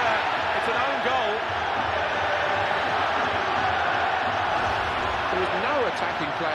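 Stadium crowd in a FIFA football video game reacting to an own goal, a loud sustained roar of thousands of voices with restless murmuring, while commentary talk runs over it.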